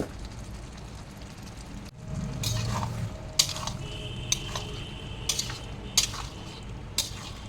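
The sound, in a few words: potatoes being added to spiced oil in a pan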